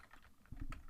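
Several soft keystrokes on a computer keyboard, a few quick clicks and then a slightly heavier tap, close but faint and heard alone.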